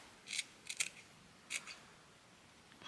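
Scissors snip a small flower off scrap fabric, several short crisp cuts in quick clusters, close and quiet.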